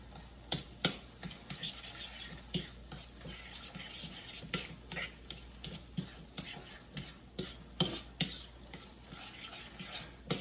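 A spoon stirs grated cheese into butter sauce and fresh homemade pasta for cacio e pepe, giving repeated quiet scrapes and clinks against the pan over a soft sizzle.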